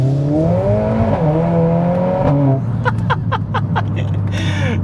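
A Mercedes-AMG A45 S engine drones steadily, its pitch rising and falling as it revs, close and loud, followed by a series of quick rhythmic pops.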